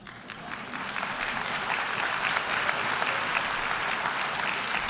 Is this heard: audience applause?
yes